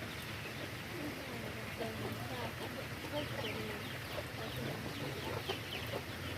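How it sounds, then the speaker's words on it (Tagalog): Hens clucking in a steady, busy chatter, with several birds close by against constant outdoor background noise. "Yan mga manok guys, oh."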